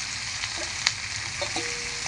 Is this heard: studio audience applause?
no